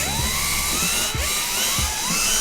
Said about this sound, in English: I'll go ahead and just drill the holes out real quick.